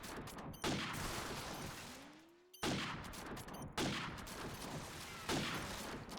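Gunfire rattles through a Call of Duty 4 LAN match, loud bursts of shots and impacts with a short lull midway before the firing resumes in dense, repeated volleys.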